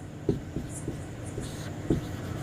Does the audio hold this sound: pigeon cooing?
no